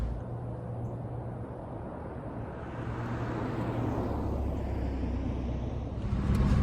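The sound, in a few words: Saab 900 car driving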